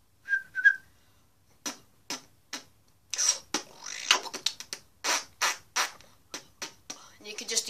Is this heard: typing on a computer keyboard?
no